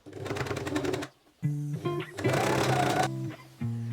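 A sewing machine stitches a shirt collar in short bursts, a rapid mechanical chatter that stops briefly and restarts, close and moderately loud.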